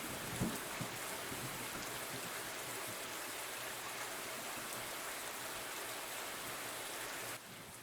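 Steady rain falls on a mountainside in Spain, a dense continuous hiss of drops on the ground, moderately faint and even, with a brief soft knock near the start and no one speaking.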